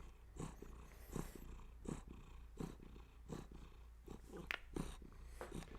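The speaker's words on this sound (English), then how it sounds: "at any given time I can pick him up and hold him and he'll just start purring" A pet cat purrs steadily while being held, each rhythmic purr cycle pulsing roughly every half second, close and soft over a low constant hum.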